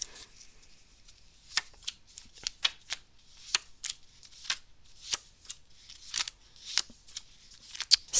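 A deck of tarot cards is shuffled close up, with crisp riffling bursts and sharp card snaps at an uneven pace over a quiet background.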